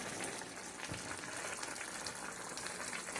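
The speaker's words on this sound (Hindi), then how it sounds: "अब हम इसमें तकरीबन 4 स्पून जो है वो कुकिंग ऑयल का डालते हैं और अब हम इसको अच्छी तरह से भूनते हैं" Minced meat keema frying in about four spoons of cooking oil while being stirred and browned, giving a steady, dense sizzle that holds at an even level throughout with no voices.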